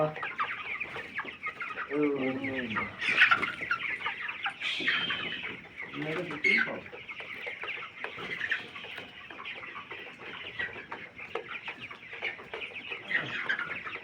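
Farm chickens, about 23 days old, cluck continuously nearby, with louder bursts of clucking coming and going over a steady background.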